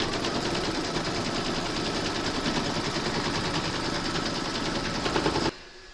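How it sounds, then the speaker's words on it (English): An embroidery sewing machine stitches the securing round of a large appliqué gnome in a hoop over batting, a steady fast mechanical whirring with rapid needle chatter, loud and close, continuing evenly before cutting off abruptly near the end. "Pop your hoop into your machine and stitch round number 3 to secure it."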